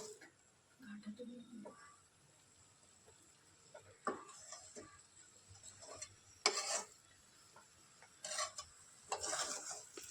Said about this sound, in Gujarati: તમે જોઈ શકો છો કે હું આના ગાંઠા તોડી રહી છું અને હલાવી રહી છું